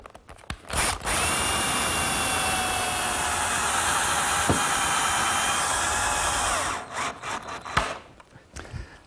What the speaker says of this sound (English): Just going to position it right on the end of the jig, and I'll attach it with a few screws.